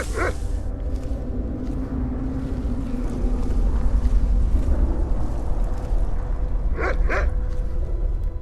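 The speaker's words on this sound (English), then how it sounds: "How can he not hear the dog bark?" A dog barks in the video game Skyrim, in the Reach region, two short barks near the start and two more near the end over a constant low ambient rumble, with no talking.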